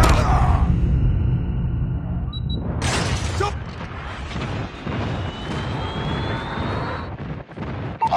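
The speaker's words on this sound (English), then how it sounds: "Airstrike incoming." An airstrike in Call of Duty Mobile: a jet sweeps overhead with a rising roar, and heavy explosions rumble around it. The booms stay loud and sustained, with a sharp burst near the start.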